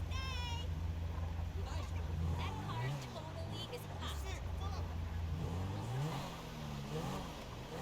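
A truck engine rumbles and drones as the truck drives past in Grand Theft Auto V, with steady traffic noise, engine pitch rising and falling, and overlapping game voices.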